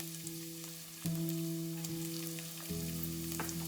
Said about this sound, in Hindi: पैन प्री हीट किया है मैंने, इसके अंदर ऑयल लेंगे 2 टेबल स्पून, और उसमें लहसुन डालेंगे जो कि फाइनली चॉप किया था हमने